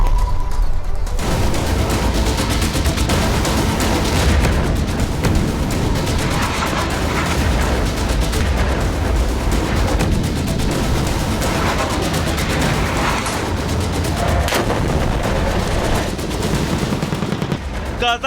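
Gunfire and blasts from Israeli airstrikes in Lebanon, a dense unbroken barrage of loud cracks, rapid bursts and booms layered over one another, close and continuous for the whole stretch, with no talking.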